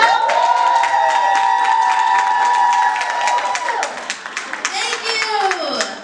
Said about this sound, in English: Please give a boisterous round of applause